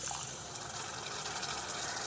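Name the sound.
a little water poured into spring onion tomato curry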